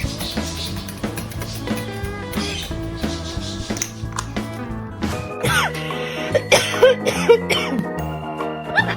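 A parrot imitates a human cough with a few short, throaty bursts, heard over a bed of steady background music.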